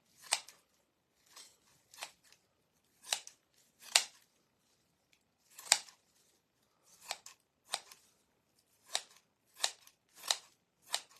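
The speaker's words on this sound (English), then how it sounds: "I want to cut it down just a little bit more on this side" Scissors snipping raffia for a craft project, a steady series of crisp, close cuts spaced roughly a second apart, quiet and with no talking.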